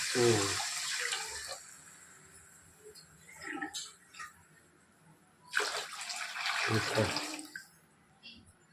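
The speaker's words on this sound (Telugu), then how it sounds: "ఇప్పుడు ఎసరు పోసేస్తాను" Water is poured into a cooking pot for pulao, in two splashing bursts separated by quieter pauses and faint background sounds.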